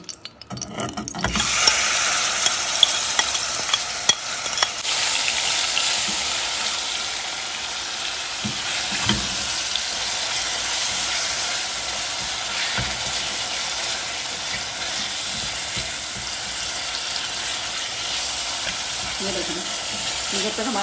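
Chicken frying in hot oil, a loud, steady sizzle that swells suddenly after a quiet start and continues unbroken, with occasional faint clicks and rattles in the pan.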